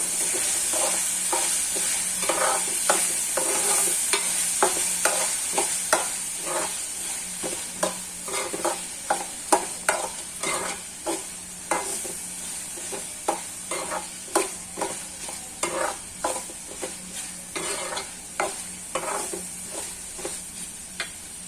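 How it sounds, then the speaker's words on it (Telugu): A spoon scrapes and stirs a frying curry in a pan in a steady rhythm of close, repeated strokes over a faint constant sizzle, with no talking. "చూడండి, బాగా వేయించుకోండి పచ్చివాసన పోయేదాకా."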